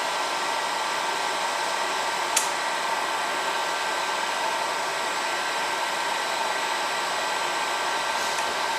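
Hot air from a heat gun blows steadily on guitar neck binding in a workshop, a constant hair-dryer-like rush with no breaks, close and fairly loud, a single faint tick near the start.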